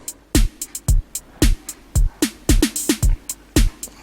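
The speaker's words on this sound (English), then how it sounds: "and this is my basic drum track" A basic drum machine pattern of kick drum, snare and open and closed hi-hats plays alone in a steady, simple groove, clean and up front.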